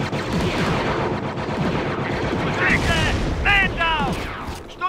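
Battle gunfire in a Star Wars Frontlines mod, a steady crackle of rifle shots and distant booms under shouted commands and radio chatter, with high laser-like zaps near the end.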